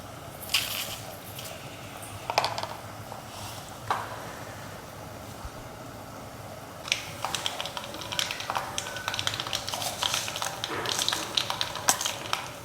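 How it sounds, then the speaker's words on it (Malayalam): Mustard seeds and red chillies splutter in hot coconut oil, a dense run of crisp crackles and pops that comes in bursts and then grows busier and steadier toward the end. "കടുകൊക്കെ പൊട്ടുണ്ട്."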